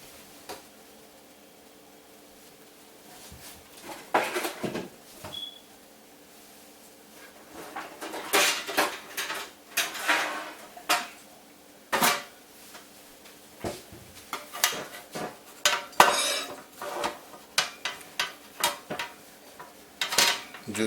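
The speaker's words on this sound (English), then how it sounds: "So let me get a pan right quick." Pans clatter as one is pulled out of a kitchen cabinet, a string of sharp metallic clanks and knocks that grow busier toward the end, close and without any talk.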